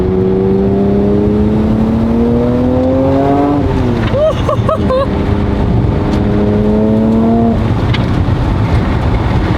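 A supercharged Honda NSX drives with a crooked steering wheel, its engine droning loudly and steadily with pitch rising slowly, briefly dipping and fluttering mid-way before climbing again, heard from close by.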